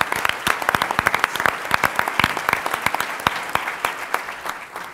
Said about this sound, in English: And so, a round of applause